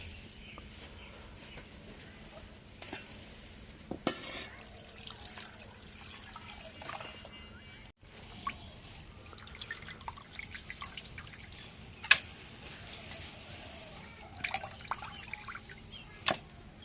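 Raw chicken feet, gizzards and liver being rinsed in water in a home kitchen on a rainy day: scattered drips, splashes and small clatters come and go irregularly over a low steady background hum, fairly quiet and close.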